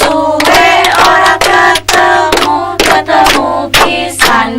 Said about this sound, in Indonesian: Sambil tepuk-tepuk nih.